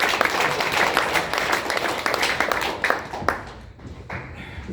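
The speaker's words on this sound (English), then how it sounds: "You're allowed to clap, it's allowed." An audience at a tech talk evening in New York claps for a few seconds, a lively burst of scattered hand claps that thins out and fades toward the end.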